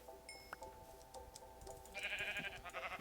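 Sheep bleating in the video game Minecraft, a short bleat near the start among game tones and chimes, with a louder bright hissing sound taking over in the second half.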